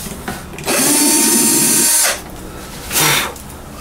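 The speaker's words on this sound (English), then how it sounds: "And we will drill another hole" A power drill bores a hole in the wooden body of a bajo quinto, with one loud sustained whine of about a second and a half, then a shorter second burst, close up.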